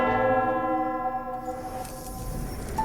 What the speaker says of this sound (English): The Bell of Vows rings.